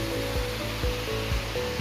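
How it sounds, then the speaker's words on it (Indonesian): Water rushes steadily from a tank into a recirculating aquaculture system once a valve is opened, a continuous close broadband flow with a faint low pulsing hum beneath it and no talking. "kita buka valve-nya, dan air mengalir dari tangki menuju ke sistem dengan mudah sekali"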